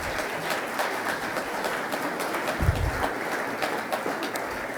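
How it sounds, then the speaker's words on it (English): An audience at a Detroit Athletic Club seminar luncheon gives sustained, rousing applause, a dense even wash of many hands clapping throughout with no voices over it. "Would you please join me in giving the staff of the Detroit Athletic Club a rousing round of applause for their work?"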